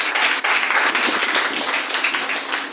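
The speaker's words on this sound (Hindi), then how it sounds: "ताली बजा के बता दीजिए कि मुझे तो बेस्ट चाहिए" A church congregation at a Sunday service in New Delhi claps together, a dense, continuous patter of many hands that stays loud and even throughout, with no voices on top.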